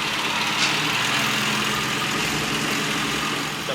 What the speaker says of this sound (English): Got the Datsun crew coming through.